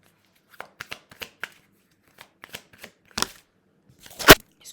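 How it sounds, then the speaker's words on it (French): Papers are handled and shuffled nearby in sparse, crisp bursts of crackling and flicking, ending in a louder rustle. "Excusez le bruit. Les papiers."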